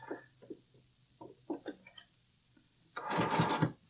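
A domestic sewing machine runs a zigzag stitch on bralette fabric, a few short bursts followed by a longer, louder whirring run for the back stitch, close up and with no talking.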